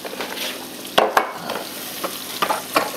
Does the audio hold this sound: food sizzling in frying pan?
yes